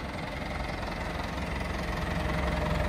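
A P-registration farm tractor's diesel engine idles steadily close by, with a continuous low rumble and faint knocking vibration and no talk.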